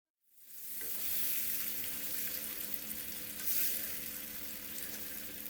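Grated tomato with salt, black pepper and red pepper flakes hits a hot pan and sizzles steadily at close range, a bright hiss with small crackles and occasional stirring, no voices.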